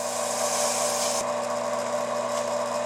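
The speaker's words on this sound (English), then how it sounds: "Now I'm going to go to my 220 with it dry." Dry 220 grit sandpaper rubbing a spinning pen blank during pen turning: a continuous close hiss over a steady machine hum, with the rasp changing tone about halfway through.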